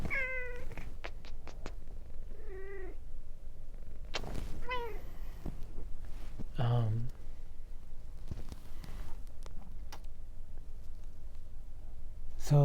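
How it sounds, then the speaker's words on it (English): A pet cat meowing several times over a dozen seconds, short wavering calls close by with gaps between, some longer and more drawn out, against a faint steady background. "my kitty cat wants to say something"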